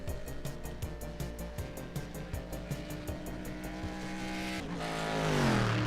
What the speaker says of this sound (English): Let's hear that engine again.